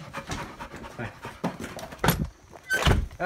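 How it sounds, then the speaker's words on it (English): A dog pants close by in quick, steady breaths, with a couple of louder thumps and snuffles near the end. "that's our dog right there"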